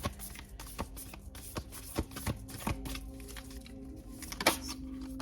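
Playing cards being shuffled in short bursts of riffling and tapping, close by, with several separate snaps and shuffles and no talking.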